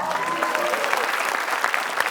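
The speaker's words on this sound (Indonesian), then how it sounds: "Afgan, tepuk tangan buat Afgan ya." Studio audience applauding on a comedy talk show, a dense burst of clapping that carries steadily throughout.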